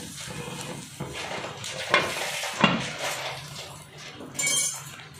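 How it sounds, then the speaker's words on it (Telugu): Chicken masala frying in a pan on a low flame, a gentle sizzle under clinking spoon strokes and scraping against the pan, with a few sharper metallic knocks spaced irregularly. "రెండు మూడు నిమిషాలు మంచిగా వేయించుకుందాం"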